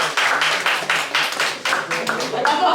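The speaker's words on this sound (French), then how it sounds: "On applaudit très fort Rita." Audience clapping at a French-Quebec slam poetry tournament, loud and close with distinct rhythmic bursts of claps, mixed with voices and cheering from the crowd.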